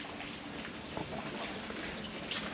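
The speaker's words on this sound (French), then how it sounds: "regarde, il pleut. Depuis ce matin, il pleut" Steady rain in Phuket, Thailand, patters softly and evenly across a surface throughout, faint and constant with no voices.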